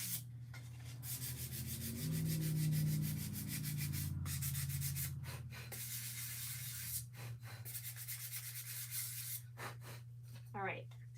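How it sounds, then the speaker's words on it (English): Sandpaper lightly rubbing over a painted wood picture in repeated scratchy strokes, near and fairly soft, with a steady low hum underneath and brief pauses between passes. "And I'm also gonna lightly sand our picture here."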